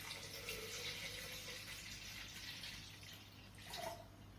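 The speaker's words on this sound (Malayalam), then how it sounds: "ആദ്യം നമുക്ക് വെള്ളം നമ്മുടെ മിക്സിയിലേക്ക് ഒഴിക്കാം." Water pours into a mixer grinder jar for a mint lime drink, a faint, steady splashing trickle that runs throughout and briefly swells near the end, quiet and with no talk.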